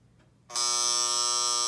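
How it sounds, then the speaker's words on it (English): An antique alarm buzzer kicks in abruptly and drones on as a loud, harsh, steady electric buzz after a brief quiet lead-in, sounding alone and close. "That's your alarm."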